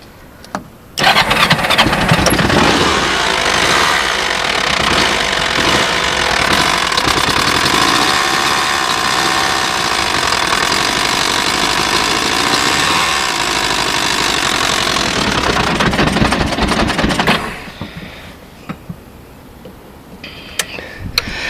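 A Kawasaki Mule utility vehicle, given starting fluid, cranks and catches within a second, then runs at a loud, steady, slightly rough idle nearby for about sixteen seconds before cutting off, followed by a few faint clicks.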